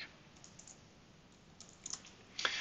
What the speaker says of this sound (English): I just have to type it out.